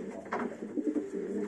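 Pigeons in a breeding loft giving soft, low cooing calls, a few rolling coos in quick succession, close but quiet, with no talking.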